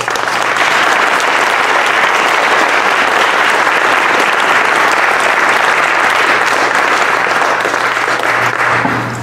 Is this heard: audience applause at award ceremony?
yes